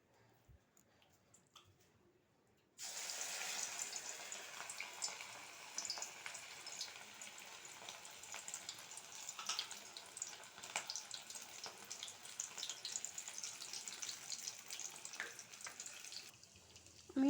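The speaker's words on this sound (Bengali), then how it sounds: "এবারে একে একে গরম তেলে ছেড়ে দেবো এগুলো।" Lentil fritters (bora) sizzling in hot oil, a steady loud hiss and crackle that starts abruptly after a quiet moment and continues evenly, close up and without talk.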